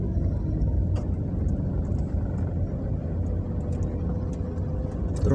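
Continuous road traffic rumble at Camp 7 along Kennon Road, a steady engine drone with faint intermittent clicks and hiss, unbroken throughout.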